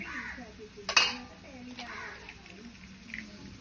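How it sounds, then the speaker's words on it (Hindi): A salt spoon strikes an egg once to crack it, a single sharp tap heard under ongoing talk. "अंडा तोड़ने के लिए चम्मच भी हम नहीं लेके आए, चलो कोई बात नहीं, हम नमक वाले चम्मच से तोड़ देते हैं।"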